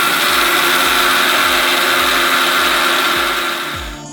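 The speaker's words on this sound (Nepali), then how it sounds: "बिर्को लगाएर अब मिक्सरमा म राखिदिन्छु र पिस्नलाई तयार भयो" A mixer grinder whirs loud and steady as it grinds whole spices for kitchen king masala, with a slight regular pulse through the motor drone, and then it winds down at the end.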